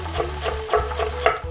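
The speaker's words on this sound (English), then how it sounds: "I'm gonna stir that around a little bit." Vegetables for a homemade vegetable stock being stirred around in a pot, giving soft rhythmic scraping and rubbing strokes roughly every quarter second over a low steady hum, close and moderately quiet.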